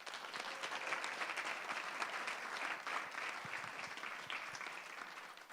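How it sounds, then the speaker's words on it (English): An audience claps steadily for the Velocity startup cohort at the Alberta Catalyzer showcase, a sustained, even round of applause at moderate distance with no voices over it. "So let's give another quick round of applause."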